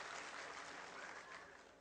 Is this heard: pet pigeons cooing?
no